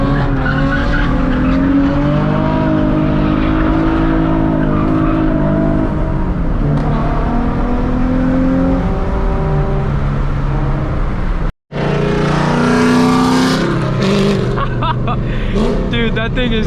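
Nissan 350Z street drifting, its engine revving hard with shifting pitch alongside squealing, skidding tires, very loud and close throughout, with a brief cut near the end before the roar resumes.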